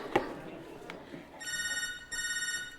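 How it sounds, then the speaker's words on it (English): A telephone bell rings in two bright electronic bursts after a moment of quieter room sound, with people talking nearby. "Hey, there's your phone ringing."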